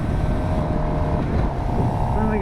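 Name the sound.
Suzuki GSX-R750 motorcycle riding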